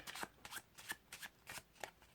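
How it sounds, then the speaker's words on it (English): A deck of playing cards is shuffled by hand in a series of quick, crisp riffles, about seven short bursts at an even rhythm, close and fairly quiet, with no voices. "you tell them to shuffle the cards again"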